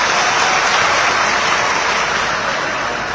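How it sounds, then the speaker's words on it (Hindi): Crowd applause welcoming a politician on stage at an NDA election rally in Dumri, with Amit Shah present, a dense, steady roar of clapping held loud and close throughout. "इनका जोरदार ताली से हम सभी लोग स्वागत करते हैं"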